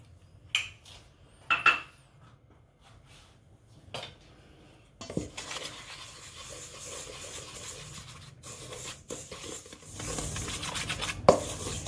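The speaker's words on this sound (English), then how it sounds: "I'm just going to stir this until I got like the structure of wet sand." Egg white stirred into a seafood gratin mixture in a bowl, a few separate clinks of the utensil followed by continuous gritty scraping and rubbing against the bowl, close and without talk.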